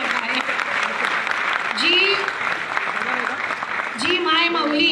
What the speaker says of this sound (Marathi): टाळ्या अशा वाजवू नका